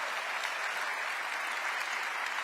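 Steady, dense applause from a large audience at Atlanta's State of the City address, a continuous wash of clapping with no gaps, fairly even in loudness and heard alone without voices.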